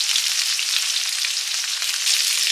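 Bengali five-spice and green mango pieces sizzle in hot oil for a sour fish curry, a loud, steady, close crackling hiss with no pauses.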